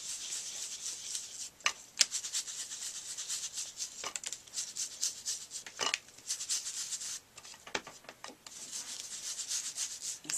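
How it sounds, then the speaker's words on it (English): Tim Holtz distress crackle paint being rubbed in gives a close, continuous scratchy rubbing and brushing sound with brief pauses, alone without talk. "So I'm just going to rub that in."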